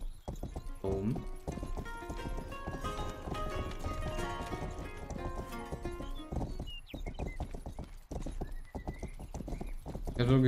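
Hooves of a tired horse clip-clop steadily in the video game Rustler, a close, brisk rhythm running under busy game sound with someone talking over it.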